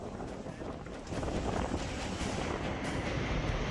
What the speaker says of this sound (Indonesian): Angin kencang yang berhembus pada Kamis petang